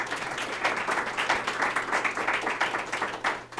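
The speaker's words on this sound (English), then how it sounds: "Let's give them a round of applause." An audience at a sculpting panel applauds the panelists, a steady wash of many hands clapping at moderate distance for a few seconds, with a low hum underneath.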